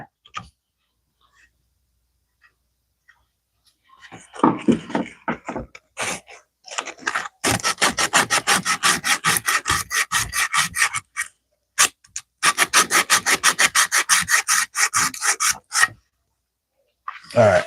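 Hand sanding of a wooden cutting board with 80 grit sandpaper makes rapid, rhythmic back-and-forth rasping strokes in two long close bursts, with a few scattered scrapes before and brief pauses between.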